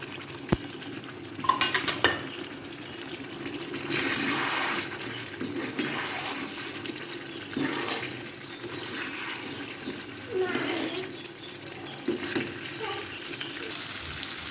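Cream being stirred into a chicken white karahi in a pan, giving wet, sloshing swirls and spoon scrapes in repeated surges, moderately close, with no speech.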